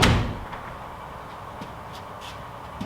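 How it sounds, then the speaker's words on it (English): A walk-through door swings shut and its latch catches with one firm thud at the start, followed by a quiet room and a few faint small taps. "The door latches."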